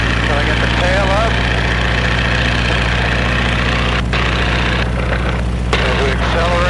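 Stearman biplane radial engine roaring steadily at full power during a takeoff roll, a loud, constant low drone with dense harmonics filling the whole stretch, with brief faint voice sounds over it.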